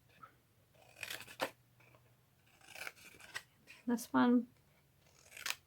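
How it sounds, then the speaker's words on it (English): Scissors snipping score lines in cardstock for a handmade gift box, several short close cuts in separate bursts, with someone speaking briefly between them. "you're going to cut each of these score lines up to that one"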